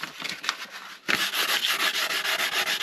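Light hand-sanding of the rough edge of a hydraulic ram with 1200 grit sandpaper: close, steady rubbing strokes that grow louder and continuous after a short softer start, with no talking.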